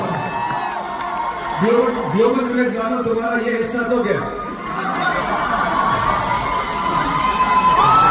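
A large crowd cheers and shouts, with children's voices standing out, at a celebrity's live performance at Global Village Dubai. Voices talk and chant over the steady roar, which swells and stays loud.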